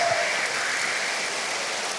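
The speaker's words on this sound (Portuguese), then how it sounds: "Agora aplauda Jesus bem forte" A church congregation claps hard together, a dense continuous wash of applause filling the room for the full two seconds with no pause.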